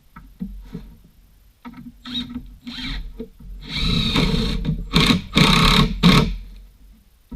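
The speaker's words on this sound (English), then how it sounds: "Sink a couple nails or screws in." Power driver sinking nails or screws into pallet wood while building a workbench, several short loud buzzing bursts with gaps between them, close and unaccompanied by speech.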